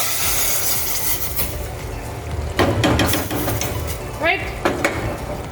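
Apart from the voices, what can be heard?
chicken being fried and stirred in a pot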